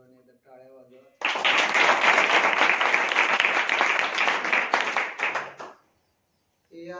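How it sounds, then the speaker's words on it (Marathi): An audience bursts into loud, dense applause at a devotional kirtan, clapping steadily for about four seconds right after someone speaks, then fading out before his voice returns. "सर्वांनी एकदा टाळ्या वाजवा."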